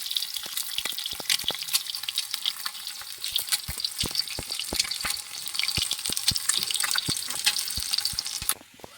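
Aloo posto, potatoes with poppy seeds, frying in a pan, heard as a steady close sizzle with many sharp popping crackles throughout, dropping away abruptly at the end.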